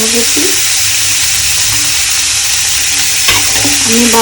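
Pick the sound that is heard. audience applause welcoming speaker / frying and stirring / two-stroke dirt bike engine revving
frying and stirring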